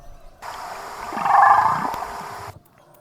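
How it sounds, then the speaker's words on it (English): A wild whale answers with a single drawn-out moaning call that swells to a loud, rising peak near the middle, then fades and cuts off, heard alone with no talk. "the whale comes even closer"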